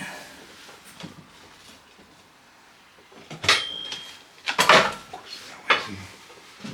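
Dishes clink and clatter in a few sharp bursts against a quiet room in an abandoned manor, with a louder clash near the middle.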